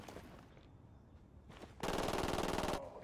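Machine gun fire in the video game Ghost Recon Wildlands: a few scattered shots, then a loud, sustained rapid burst of automatic fire lasting about a second.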